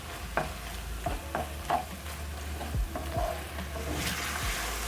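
Beef steak and a chopped tomato frying together in a pan, a soft, even sizzle broken by a few sharp spatula scrapes and knocks against the metal.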